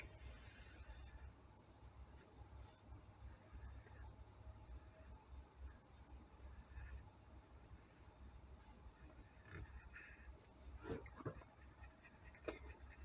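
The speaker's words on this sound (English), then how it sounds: "Tracing and coloring inside." A pencil or marker scratches softly on paper while tracing and colouring a simple Christmas elf drawing, a faint, continuous rustling with occasional small taps.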